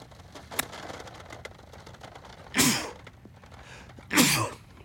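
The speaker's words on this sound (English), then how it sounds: "I'm gonna have to edit out that sneezing." Two sharp sneezes burst out a couple of seconds apart on a golf course, fairly close and loud over a faint outdoor background with a small tap earlier.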